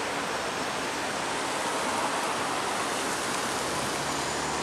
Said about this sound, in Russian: Так, вот смотрите, какой фонтан.